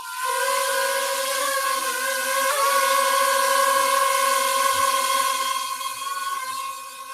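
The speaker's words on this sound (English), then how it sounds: "It's just the motors sound like this little mosquito." Small drone motors buzz with a steady, high-pitched whine like a mosquito, holding a constant tone with a slight pitch wobble midway.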